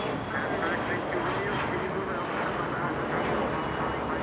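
A Qantas Airbus A380 and a Singapore Airlines 777 taxi at Los Angeles International Airport, their jet engines giving a steady, continuous roar that holds at an even level throughout.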